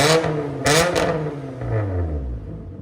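A 2010 Nissan Altima 2.5L four-cylinder with a straight-pipe exhaust and 2.5-inch high-flow system revs hard in sharp, close bursts, each blip climbing then dropping into a rough, falling drone.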